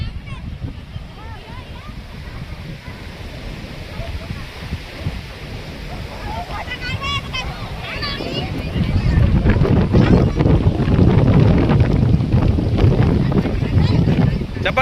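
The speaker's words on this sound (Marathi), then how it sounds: "आपण पाणी बघतोय, लाटा, या पाण्याच्या लाटा बघा." Sea waves wash onto a beach in a steady broadband rush mixed with wind buffeting, growing louder and fuller partway through, with faint voices in the background.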